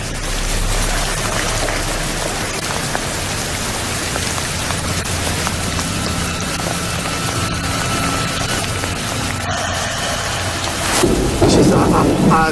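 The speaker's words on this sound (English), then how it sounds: "I can't remember experiencing rain that hard for that long. Just barreling down on us. Absolutely bucketing down." Heavy rain pours down steadily outdoors in South Africa, a loud, continuous wash of drumming water that never lets up, with a low rumble at the start.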